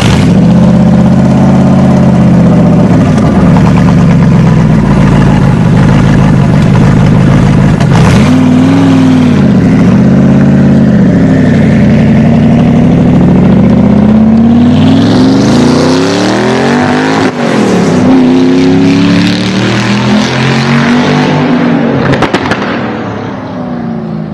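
A Gumpert Apollo V8 engine roars loud and close throughout, holding a steady growl with repeated rev swells, then climbing into a higher, rasping pitch toward the end.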